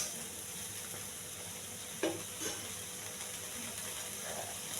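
Cluster beans tossed with chili powder and turmeric sizzle gently in a pan, a low steady fry with a few sharp scrapes of stirring near the middle, no voices.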